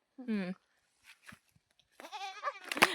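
A goat bleats once, loud and close, followed after a short pause by people talking.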